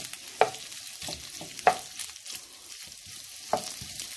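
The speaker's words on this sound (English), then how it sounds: "Keep stirring your bacon. You just want it golden brown." Bacon frying in a pan gives off a faint, steady sizzle, broken by a few sharp scrapes and clicks as it is stirred.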